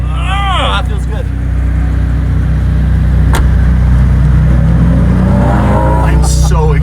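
A McLaren Senna hypercar's engine drones steadily with a deep, close, loud rumble throughout, while people talk over it at the start and end.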